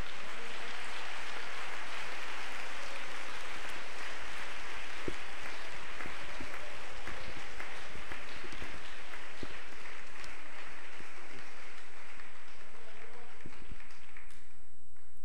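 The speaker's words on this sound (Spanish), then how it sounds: "Dele ese aplauso mejor al Señor." A congregation at a church service claps in sustained, dense applause for about fifteen seconds, steady and fairly loud, with faint voices mixed in beneath it.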